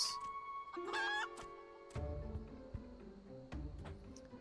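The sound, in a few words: chicken clucking in Final Fantasy XIV video game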